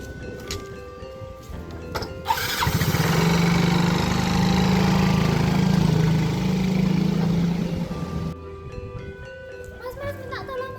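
A motorcycle at a roadside food stall starts up and runs at a steady idle for about six seconds, then cuts off, with people talking before and after the engine noise.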